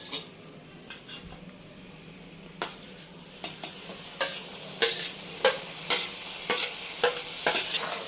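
Spice paste frying in a pan for Telugu-style goat boti fry, a steady low sizzle under repeated scraping and clinking strokes of a spoon stirring, the stirring growing busier toward the end.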